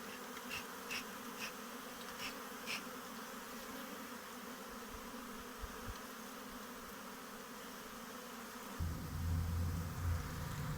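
A dense, steady buzzing of a honeybee swarm as it is taken into a hive, continuous throughout and swelling a little louder near the end.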